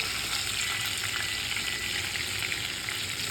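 Olive oil fries in a sauce pan, a dense steady sizzle with crackling spatter, close and constant throughout with no voices.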